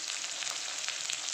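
Onions sizzle in hot oil with black cumin, asafoetida and green chilies for a ridge gourd and potato curry, a dense continuous frying hiss at close range, alone without voices.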